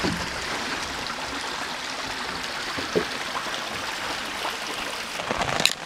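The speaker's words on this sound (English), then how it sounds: "It's the water." Crystal Creek on the Superior Hiking Trail flows in a steady, close rush of water, a continuous burbling wash with small splashes and a few louder trickles near the end, no voices.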